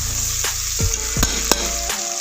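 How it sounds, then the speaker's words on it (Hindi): Tomato with ginger-chili paste sautéing in a pan gives a loud, close, crackling sizzle, broken by a few sharp spatula scrapes and knocks against the pan, with no one speaking. "अब इसको हल्का सा हम भूनेंगे"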